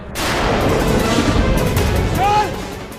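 Gunfire in a Hindi TV drama, a loud, sustained booming blast that fills the scene, with a short tonal cry near the end and some voice mixed underneath.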